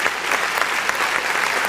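A live audience at a comedy monologue bursts into loud, dense applause, a brief continuous wash of clapping with no talk over it.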